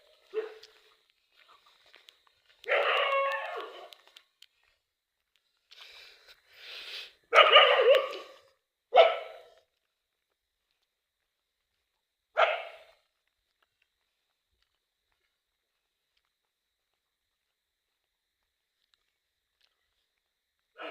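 Dogs barking on a night journey to a graveyard, a few separate bursts of barks spaced out with long silent gaps between them, fairly faint and distant.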